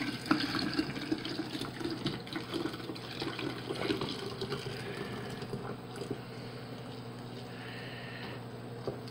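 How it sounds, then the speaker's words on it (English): Really hot milk poured gently into a container for homemade yogurt, a steady close liquid stream splashing and trickling for several seconds, with faint room noise underneath. "Filming and pouring really hot milk at the same time."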